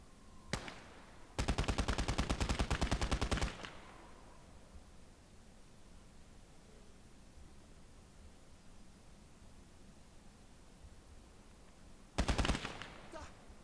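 Enemy machine gun fire in the Gates of Hell strategy game during the Battle of Moscow comes as a long rapid burst of evenly spaced shots, then a quiet stretch of faint background noise and a shorter burst near the end.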